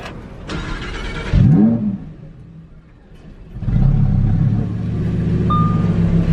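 A Lamborghini Huracán EVO engine cranks via push-button start and fires with a sharp rising rev, drops briefly, then settles into a loud, steady rumbling idle close by.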